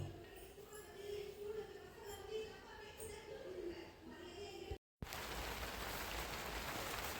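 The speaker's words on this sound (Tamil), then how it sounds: "பயங்கர மழை பெய்யுது" Heavy rain pours steadily outdoors in a broad, dense hiss that stays loud for about five seconds, briefly cuts out, then returns as even harsher wash.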